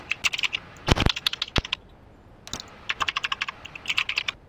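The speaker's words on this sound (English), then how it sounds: "New keyboard." Fast typing on a new computer keyboard during a Counter-Strike: Global Offensive match, close clicky keystrokes in quick bursts with a brief pause between, no talking.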